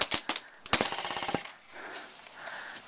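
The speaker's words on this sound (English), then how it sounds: "They're shooting from that way." Paintball guns firing in an outdoor attack-and-defend game, a rapid close burst of sharp cracks followed by a few scattered shots, then quieter movement.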